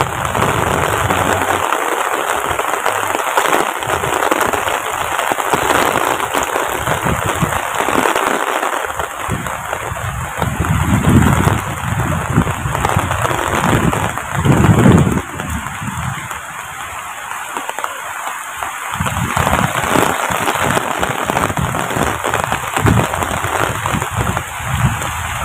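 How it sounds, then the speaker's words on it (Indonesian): Steady rain pours down on a remote village in the Central Java forest, a dense continuous hiss of drops drumming on surfaces, loud and close throughout with no voices heard. "Ini suasana di Kampung Munggah kalau sedang turun hujan ya, seperti inilah ya teman-teman."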